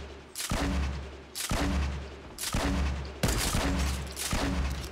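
Gunfire in a squad-based shooter video game, heavy booming shots fired in about five evenly spaced loud bursts, each with a sharp crack and lingering rumble, no talking over them.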